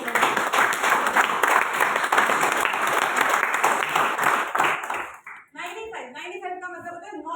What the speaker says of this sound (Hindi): एक बार तालियां बजाइए फिर मैं बताऊंगी।